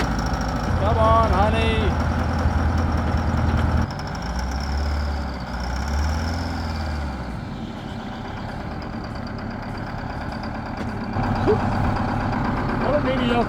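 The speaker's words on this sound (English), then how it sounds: "What a mediocre engine." A used Detroit diesel engine on a forklift with about 300,000 miles runs with a steady low rumble throughout, while a person talks excitedly over it and reversing beeps sound intermittently.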